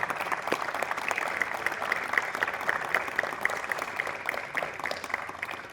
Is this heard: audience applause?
yes